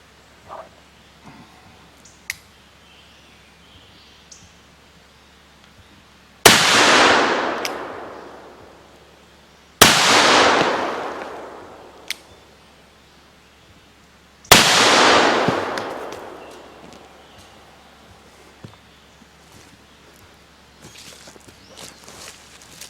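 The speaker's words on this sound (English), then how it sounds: "Kaido's bullets are doing so good, I'm going to see if they can open up a couple of cans of shaving cream" Pietta 1861 Navy black powder revolver fired at cans of shaving cream outdoors, three loud booming shots spaced several seconds apart, each with a long echoing decay, with faint shuffling and handling noises between them.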